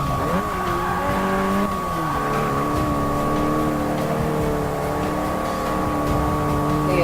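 A race car in Forza Motorsport 6 drives downhill on the final lap, its engine droning loud and steady with a brief rise and dip in pitch early on, then holding a continuous high whine.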